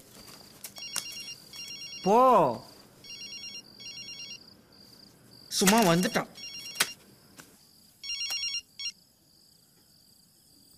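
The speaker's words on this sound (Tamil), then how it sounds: "ஃபோன் அடிக்கிறதுல ஏந்து போய் பேசு" A telephone rings indoors in a repeating electronic trill, clear and fairly near, between short bursts of a person talking.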